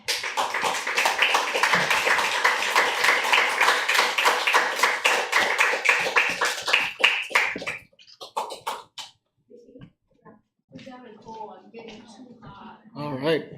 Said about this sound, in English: A round of applause for our three authors.